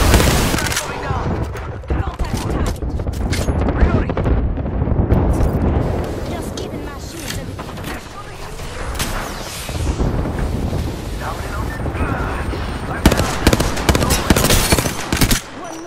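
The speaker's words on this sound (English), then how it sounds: "Yo, we got an airstrike coming down." Airstrike explosions in the Apex Legends battle royale, loud booming blasts and rapid bursts of gunfire rolling almost continuously through the whole stretch, with a voice talking over part of it.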